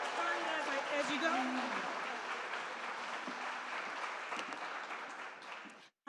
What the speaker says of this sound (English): let's give a big round of applause for Diana